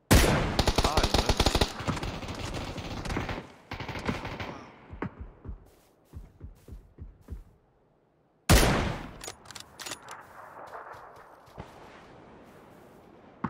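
Rapid bursts of automatic gunfire in PlayerUnknown's Battlegrounds on PC crackle loudly, first a long dense volley, then scattered single shots, and after a pause another sharp burst followed by sporadic shots.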